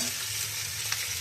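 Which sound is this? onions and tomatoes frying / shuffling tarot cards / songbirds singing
onions and tomatoes frying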